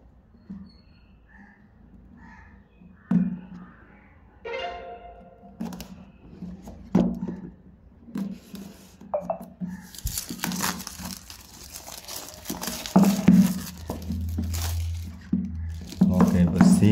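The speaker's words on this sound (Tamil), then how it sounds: "மேலே இருக்கிற ரேப்பரை ஓப்பன் பண்ணிவிடுவோம்" Someone opens the plastic wrapper on a Realme 13 Pro Plus phone box, with close, crisp crinkling and tearing in irregular bursts that grow denser and louder toward the end, broken by a few sharp clicks and short spoken remarks.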